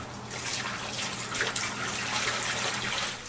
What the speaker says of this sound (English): now we're going to pour our dye into the pump up power sprayer